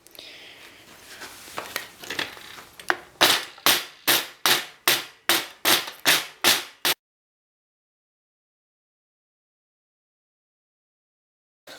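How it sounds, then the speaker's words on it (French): A wood rasp files the rounded edges of a wooden slingshot: about a dozen regular, sharp rasping strokes in close succession, loud and near, followed by silence; brief soft talk is heard before the strokes. "j'utilise la râpe pour le bois arrondi et rectangulaire"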